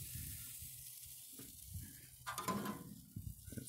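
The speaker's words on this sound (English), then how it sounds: "brats are about ready to go here" Bratwursts sizzle as they cook, a soft steady fry near at hand with brief clatters of utensils or food being moved partway through.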